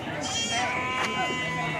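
Sheep bleat at a weekly Tuesday sheep and goat market in Kadiri, a few nearby calls rising over constant crowd chatter and people talking close by.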